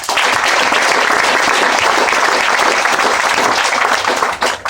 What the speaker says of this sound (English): Please join me in a round of applause for both.